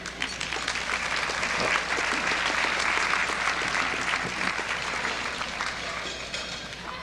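An anniversary banquet audience claps steadily and fairly softly for several seconds, a dense, even patter of many hands with little else heard.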